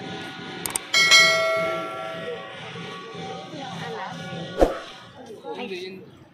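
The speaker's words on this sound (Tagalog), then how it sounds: "Ito ang bell" A bell at a hilltop viewpoint in La Trinidad, Benguet rings with a bright, sustained metallic tone that slowly decays, with a sharp strike later on and people chatting nearby.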